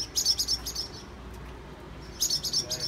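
A mother bird calls near her nest of straw and mud, giving two bursts of quick, bright chirps separated by a short pause, fairly close and clear over a low background hum.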